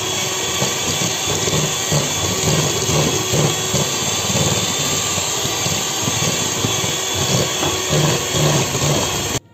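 An electric mixer runs continuously through tiramisu cake batter as egg yolks are added one at a time, a loud, steady motor whir close by.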